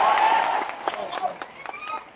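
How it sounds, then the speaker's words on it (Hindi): Crowd claps at an outdoor public political rally, a dense burst of applause that starts loud and thins into scattered claps while a voice speaks over it. "एक बार आप अपने लिए ताली बजाएं"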